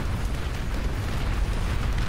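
EMP missiles striking in the real-time strategy game Beyond All Reason, heard as a dense, rumbling wash of explosions that stays loud and steady for about two seconds.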